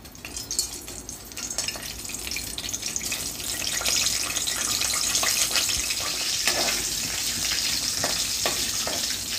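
Whole spices, including cinnamon, cloves, peppercorns, bay leaf, cardamom and star anise, sizzle in hot oil for masoor biryani, a steady crackling hiss that builds and holds, with a few light clinks.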